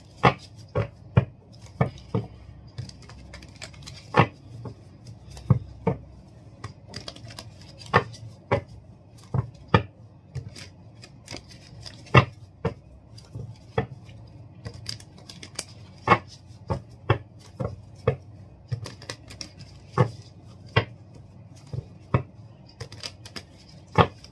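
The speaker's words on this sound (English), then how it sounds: "I'm going to do 2 more shuffles for your Caps." Tarot cards are shuffled and tapped in repeated crisp bursts, short riffling clicks spaced fairly regularly, close and clear with no talking.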